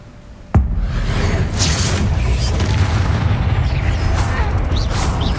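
A Bombarda spell explodes in Hogwarts Legacy with a sharp boom, then a dense, loud rumbling roar that holds steady for several seconds.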